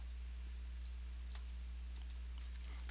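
Light, sparse keystrokes on a computer keyboard while entering text into an Excel spreadsheet, faint scattered clicks over a steady low electrical hum.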